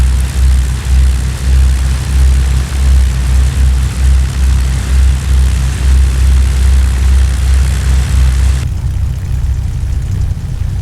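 Echo 19 P-51D Mustang propeller engine in a flight simulator at Duxford, a loud, steady low droning roar with a pulsing rhythm that holds for about nine seconds, then drops slightly in tone.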